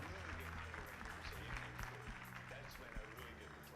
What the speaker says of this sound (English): Can we get a round of applause for the drone pilots